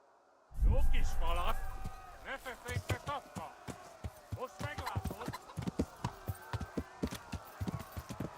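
A horse's hooves clip-clop in a steady trotting rhythm in the medieval game Kingdom Come Deliverance, arriving after a loud whoosh and continuing over a soft ambient bed.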